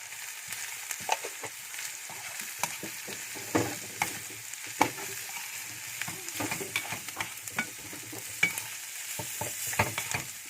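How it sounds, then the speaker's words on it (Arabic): Chicken stirred with black pepper and turmeric in a pan: a low sizzle punctuated by frequent irregular clicks and scrapes of a utensil, close up and quiet, without speech. "وهنقلب يا جماعه اهو زي ما انتم شايفين"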